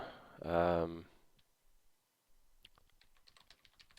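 Rapid clicks of a computer keyboard being typed on nearby, following a brief spoken phrase, with a steady run of keystrokes to the end.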